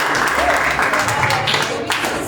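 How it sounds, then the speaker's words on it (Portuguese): Church congregation applauding while standing during a worship service, a steady wash of clapping with voices and shouts mixed in throughout. "Fica de pé aplaudindo"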